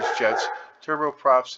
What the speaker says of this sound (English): You might hear my dogs in the background.